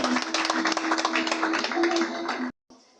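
An audience at a political party congress claps in a dense, lively burst with voices mixed in, then the applause stops sharply.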